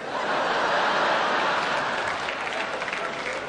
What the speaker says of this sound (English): while you were laughing and applauding